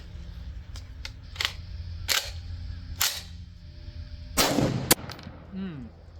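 A Bushmaster M17S bullpup rifle fired outdoors in several sharp, loud reports spaced irregularly about a second apart, each with a brief echo, and a clinking sound like an ejected casing near the end.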